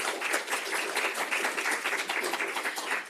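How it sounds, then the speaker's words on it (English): Online applause at the kick-off of the Europe Talks Solidarity conference 2022: steady, soft, thin-sounding clapping runs throughout at an even level, with no voices over it. "we're used to this online applause"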